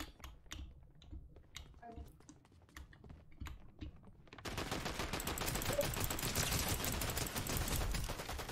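Fortnite gunfire: light keyboard clicking comes first, then a loud, sustained burst of rapid automatic fire fills the second half of the clip.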